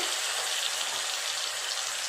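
Ginger-garlic paste hits fried onions in a pan with a steady, even sizzle, a close and continuous hiss with no talking.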